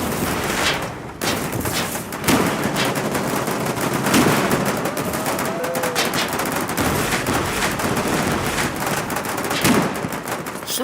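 Sustained close gunfire in the war game Foxhole: rapid automatic bursts and single cracks overlapping continuously for about eleven seconds, loud and dense with barely any pause.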